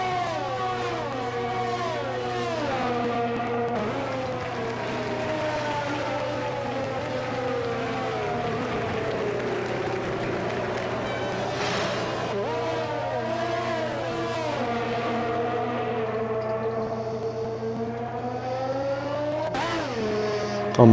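Racing cars in a sim racing game at the Japanese GP whine steadily through gear changes, with high engine pitches rising and falling in layered sweeps from start to finish and a brief burst near the end.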